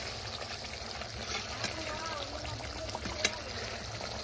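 Masala sizzling and frying in a pan in a home kitchen: a continuous crackling hiss, close and moderate, with a few sharp clinks, while people talk faintly in the background.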